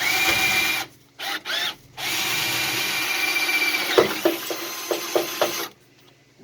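A drill with a 1/4 inch bit bores into the door jamb of a 1941 Dodge WC truck in loud whining bursts, stopping and starting, then a run of short grinding catches.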